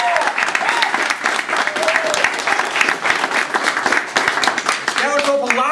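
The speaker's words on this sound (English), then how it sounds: "Give yourselves a round of applause." An audience at a Toastmasters speech contest applauds loudly and steadily, many hands clapping in a dense patter, with a few voices calling out over it.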